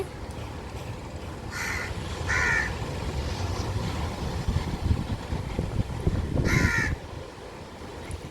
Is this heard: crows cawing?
yes